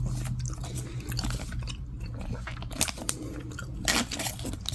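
A person chews Tootsie fruit chews close to the mic, giving soft wet munching and crunchy bites that repeat irregularly over a low steady hum.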